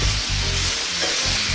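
Seasoned pork and fresh chili sizzle loudly in a hot pan, a steady close frying hiss with occasional stirring bumps and no talking.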